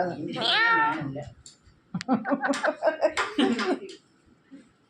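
A cat gives one drawn-out, wavering meow close by, followed by a run of short vocal sounds in a talking, chattering rhythm.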